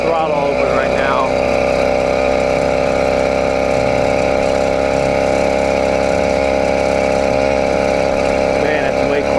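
An 80cc motorized bicycle engine held near full throttle drones steadily and loudly for the whole stretch, a constant buzzing whine close to the listener without a break.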